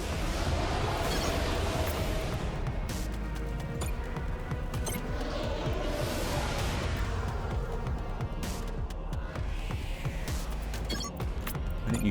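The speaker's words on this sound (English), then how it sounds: "Don't want to get caught in that explosion." Explosions in the video game Crying Suns come as a string of broad, crackling bursts and booms over a dense, busy layer of game sound.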